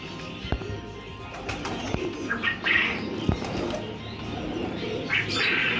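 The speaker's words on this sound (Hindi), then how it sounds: "ये गोल्डन कबूतर है।" Golden pigeons in a breeding setup coo softly and flap their wings in short bursts, with brief wing claps among steady low cooing nearby.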